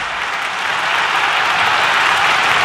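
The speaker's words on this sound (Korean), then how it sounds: "수만 명이 일제히 기립해 덩샤오핑을 향해 뜨거운 박수를 보냈다고 보도했고" Dense applause from a large standing crowd of tens of thousands, saluting Deng Xiaoping at a 1977 stadium event in archival footage; a steady, continuous wash of clapping held at full level throughout.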